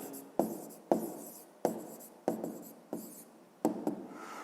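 A pen writes out a maths answer by hand, making a series of short scratchy strokes with sharp onsets at an irregular rhythm, quiet and close with no talking.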